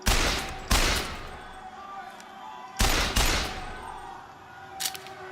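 Bursts of gunfire from the repeater in the game Bioshock Infinite, two loud close volleys each with rapid repeated shots, separated by a quieter pause, with a faint smaller pop at the end.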